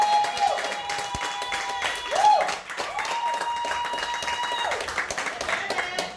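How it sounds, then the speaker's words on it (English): A comedy club audience at Mortimer's claps and cheers to welcome a comic to the stage, with sharp whistles cutting through a steady wash of applause and crowd noise. "really give your next comic a great round of applause"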